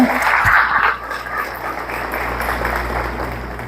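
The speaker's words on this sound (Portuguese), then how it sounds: "Você pode dar uma aplauso ao Senhor? Bem forte." A church congregation bursts into loud, dense applause that stays strong at first, then eases to a steady, slightly quieter clapping.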